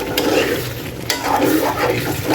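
A spoon stirs Shinwari chicken karahi in a pot of hot, oily spiced masala, giving a close, continuous scraping sizzle with soft clatters and no talking.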